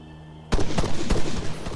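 Gunfire crackles in a night firefight in Arma 3, a sudden burst of sharp shots opening after a quiet hum and continuing in irregular close cracks with reverberant tails.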